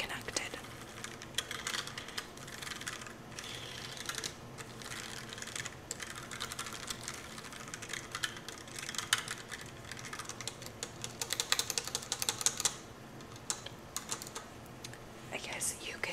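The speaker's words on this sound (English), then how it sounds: "I accidentally typed a bunch of things into my computer" Soft, close typing on a Bluetooth computer keyboard, with irregular clusters of light key clicks running throughout and growing busier near the end, under quiet whispered talk.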